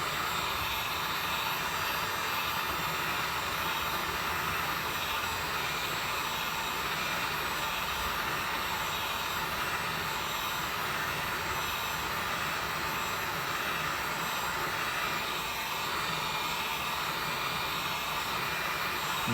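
A heat gun blows steadily while slowly warming a rusted car body panel, its constant airy whine and rush holding at an even level throughout with no voices.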